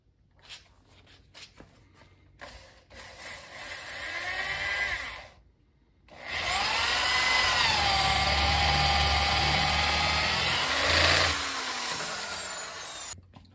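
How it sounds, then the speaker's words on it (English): A power drill bores a hole into the wooden handle of a homemade softball glove mallet, whirring in two sustained bursts with a pitch that rises as the bit bites, separated by a short pause, close and loud with no talk. "let's go ahead and drill the hole"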